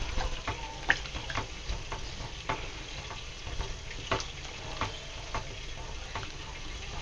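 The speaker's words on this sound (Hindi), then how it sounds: "और उसके बाद इसको मैं अच्छे से मिक्स कर दूंगी।" Rice mixed with salt for khichdi is stirred in a pot, giving soft scraping and irregular light clinks over a faint sizzling hiss, quiet and close, with no voices.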